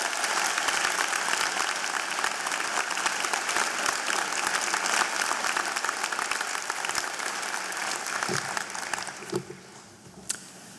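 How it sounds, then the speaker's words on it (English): A large audience at a university convocation ceremony applauds loudly and steadily, a dense wash of clapping that holds for most of the stretch before tapering off, leaving a few scattered final claps. "I would like you to give a huge round of applause"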